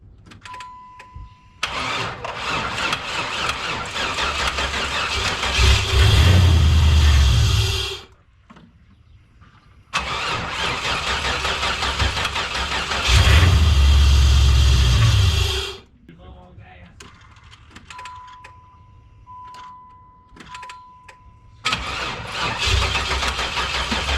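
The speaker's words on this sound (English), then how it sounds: "We're gonna hit the key this time, and hopefully it actually starts." A 1994 Chevrolet Caprice engine cranks and catches twice, each attempt a loud rising rumble that idles briefly then dies, with a steady electrical hum in the quiet gaps between.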